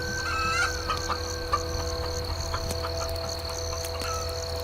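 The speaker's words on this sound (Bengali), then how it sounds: "কিরে, এই রাইতে মুরগির ডাক, এটা তো স্বাভাবিক লাগতেছে না।" A chicken clucking at night in a cartoon scene, with short repeated calls over a dense, steady chorus of night insects or frogs, fairly close and mid-level.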